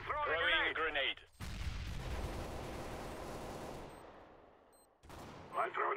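Video game combat sounds a grenade blast followed by a long rumbling burst of gunfire, with someone shouting briefly before and after it.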